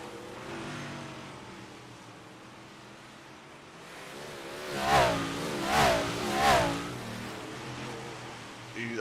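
Race cars on a dirt track roar past at a distance, engine noise building into three loud swells as they go by over a constant background rumble.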